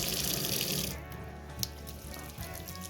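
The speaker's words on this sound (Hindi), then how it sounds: "इसमें मैं नॉर्मल टैप वाटर फिल करूँगी" Cold tap water runs into a water filter in an apartment in Ulyanovsk, Russia, a steady close gush that drops in level about a third of the way through and carries on more softly with small splashes.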